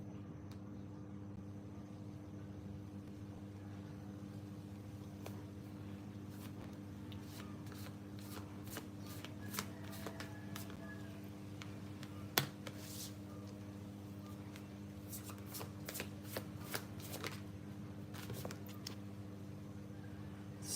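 Angel oracle cards shuffled by hand, a series of quick papery riffles and flicks that come in scattered bursts, clustering later, over a steady low background hum; close but faint.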